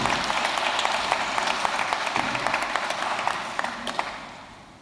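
A crowd at a college graduation ceremony in Dublin applauds: dense, continuous clapping from many hands that holds steady and then slowly tapers off.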